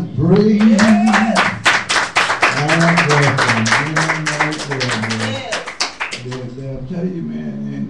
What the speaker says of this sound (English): clap and praise